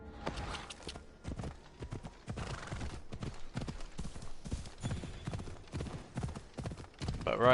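In Assassin's Creed Odyssey, hooves clatter in a fast, steady gallop throughout, loud and close, with a horse whinnying briefly near the end.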